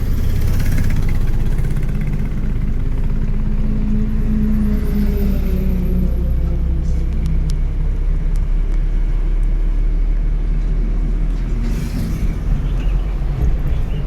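A manual-transmission car engine revs up in gear during a driving lesson, a loud, steady low engine rumble close by with no one speaking.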